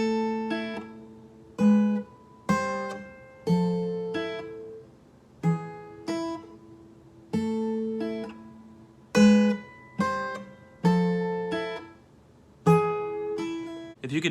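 Strummed acoustic guitar chords, played one after another in a steady pattern, each loud attack ringing briefly before the next chord, with no voices.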